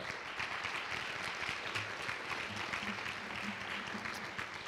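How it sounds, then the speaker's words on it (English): A crowd at a university thesis competition claps steadily throughout, a dense and continuous round of applause heard at moderate distance. "How about a nice round of applause for all?"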